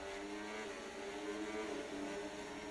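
A Formula 1 car engine from a racing video game set at the Monaco Grand Prix hums as a steady, droning whine throughout, loud and continuous with no talk.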